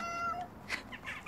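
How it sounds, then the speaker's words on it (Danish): A recorded cat meow played to a dog in a home, two short, fairly faint meows over quiet background, with no speech. "Nå, det var en kat."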